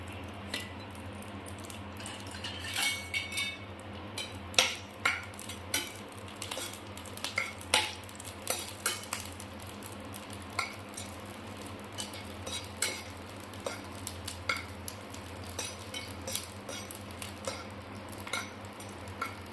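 Green chillies fry in a couple of spoons of oil in a pan, with a soft steady crackle under frequent scraping and clinking of a spoon against the metal.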